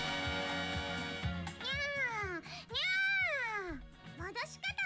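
A voiced anime-style character in the visual novel Lamunation meows as a cat, several long sliding meows by a human voice imitating a cat over background music, with a few short spoken bits between them.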